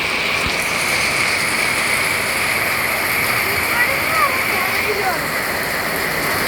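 Heavy monsoon rain pours down in a constant, dense roar of water on surfaces, broad and unbroken, with a voice faintly present at times beneath it.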